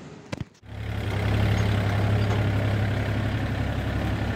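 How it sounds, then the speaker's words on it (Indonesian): A Kubota L3218 tractor fitted with a KRX164 rotary tiller starts up after a few brief clicks, then runs with a steady, loud, low diesel drone and a constant mechanical rumble throughout. "ini traktor Kubota L3218 membawa Rotary KRX164"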